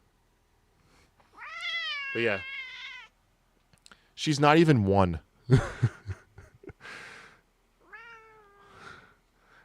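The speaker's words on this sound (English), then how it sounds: "She's so talkative. Oh yeah, she's a noisy girl." A talkative domestic cat meows repeatedly in drawn-out, rising and falling calls close by, with someone speaking and laughing between the meows.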